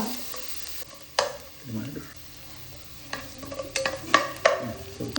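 Chopped ginger and garlic with mustard seeds in hot oil: a close spoon stirring with scrapes and knocks against the pan over a soft sizzle, several bursts of clatter near the end.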